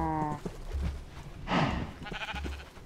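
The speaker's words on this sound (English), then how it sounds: "I found a sheep." Minecraft sheep bleat in short repeated calls, a few quick stuttering cries at close range among game sounds, with gameplay noise and brief thuds between them.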